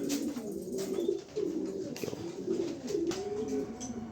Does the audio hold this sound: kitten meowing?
no